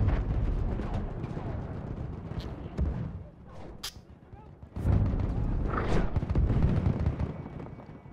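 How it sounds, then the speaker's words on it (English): Bomber explosions in a video game battle: a heavy rumbling barrage with a few sharp booms and a deep blast near the end, anti-aircraft fire mixed in, fairly loud with distant combat noise between hits. "Bomber coming in, enemy heavy."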